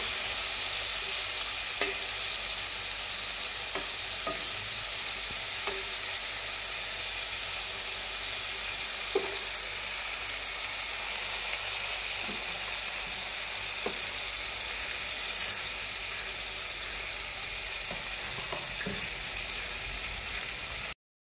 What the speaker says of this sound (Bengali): এবার বাকি ভাজাগুলোকেও ভেজে নিচ্ছি।